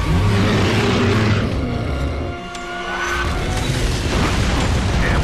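A Brumak, a giant beast in Gears of War 2, takes an exploding shot on hardcore difficulty, giving a loud, sustained booming blast with rumbling debris that briefly dips and then builds again.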